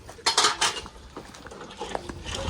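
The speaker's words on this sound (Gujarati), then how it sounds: "અહીં વાસણ ધોવે છે" Dishes and utensils being washed in a village home give a close clatter of metal pots and cutlery knocking together, busiest at the start and then in lighter scattered clinks.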